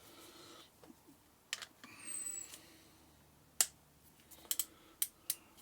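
Click-type torque wrench on a Steve Parrish F1 RD500 primary drive nut, set to 90 Nm, gives sharp isolated clicks, one alone then a quick cluster of three or four near the end, over quiet workshop background.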